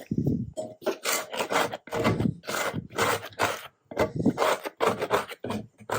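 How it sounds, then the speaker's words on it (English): A bench scraper grinds over a cold, crusted griddle on a garage bench in loud, repeated rasping strokes. Each scrape is separated by a brief pause, and the rhythm stays fairly steady. "going to remove all of the excess that we can get off of that. Just scrape it around."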